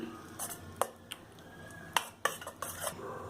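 A spoon stirring mustard powder and green chili paste into a mixture in a bowl, with scattered metallic clinks and scrapes against the dish, close and fairly quiet.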